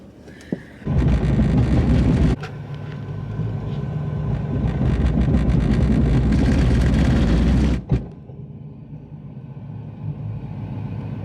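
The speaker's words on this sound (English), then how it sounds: "very bad, like, grinding noise right around the center support bearing area" An LS3-swapped BMW with a failing drive shaft center support bearing gives off a loud, rough grinding rumble that kicks in after about a second, holds steady for several seconds, then cuts off abruptly and leaves quieter background noise.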